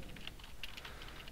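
Quick, close key presses on a computer keyboard while code is entered, a steady run of light clicks with no talking.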